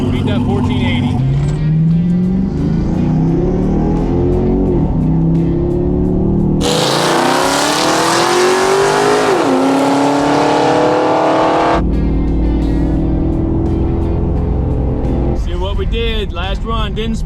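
A $3,500 drag car makes its last launch down the strip at Drag Week. The engine revs hard and climbs through several gear shifts, its pitch rising and dropping, loud and close throughout.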